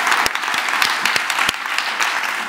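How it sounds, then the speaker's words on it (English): Audience applause at a television industry festival session, a dense steady patter of many hands clapping close by with a few sharp individual claps standing out, continuing evenly throughout with no talking over it. "I think we need a little round of applause for her."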